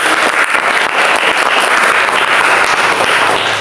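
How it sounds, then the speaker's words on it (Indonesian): Classroom applause, a burst of many students clapping together at close range, loud, dense and steady throughout, with no talking. "kasih tepuk tangan"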